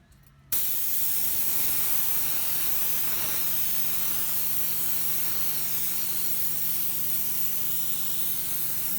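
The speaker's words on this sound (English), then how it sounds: "but this colour I'm only spraying the big crystals" Airbrush spraying opaque blue, red and black paint onto cement geode crystals, a steady close hiss that starts abruptly and holds unbroken throughout.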